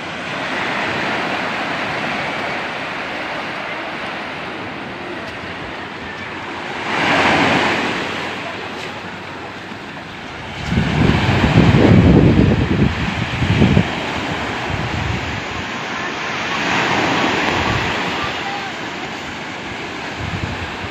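Sea waves surge and crash on a Bataan shore in bad weather, a steady roar with wind noise and louder breaking bursts around the middle, with brief voices faintly in the background.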